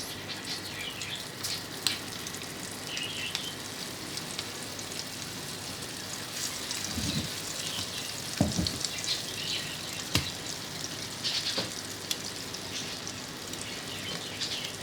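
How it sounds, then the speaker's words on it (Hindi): Shami kebabs frying in a pan over low heat, a faint steady sizzle with scattered small pops and crackles, quiet and without talk. "अब हम इसको फ्राई करते हैं।"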